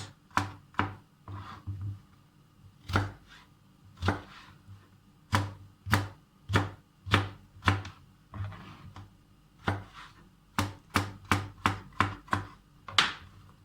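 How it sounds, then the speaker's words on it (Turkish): Potatoes, carrots and onions being diced into small cubes on a board: a long run of sharp, close knife chops, some in quick bursts and some spaced apart, steady and clear with no talk. "Barbunyalar haşlanırken biz öncelikle patatesimizi, havucumuzu ve soğanımızı küçük küpler halinde doğruyoruz"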